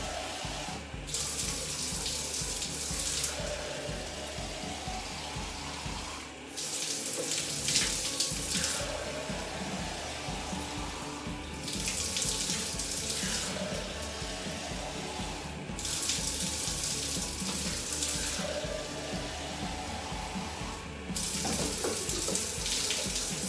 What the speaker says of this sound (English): Now this process of rinsing can be a lot easier if you have a shower that actually has a extendable hose or a wand.